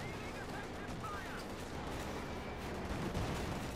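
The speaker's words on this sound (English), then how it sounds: "Machine guns blazing away there." Machine guns rattle in dense, continuous bursts during a Company of Heroes 2 battle, a steady wash of gunfire with a voice talking over it.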